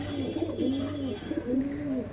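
Adult flying pigeons kept for breeding coo in a Behala loft, with low rolling calls repeating steadily up close and no speech.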